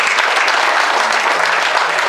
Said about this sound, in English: everybody here would like to give a round of applause